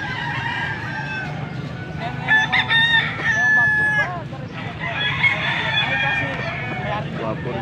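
A young stag rooster crows nearby, a loud call in the middle of the clip followed by more crowing and clucks from other fowl, with people talking in the background.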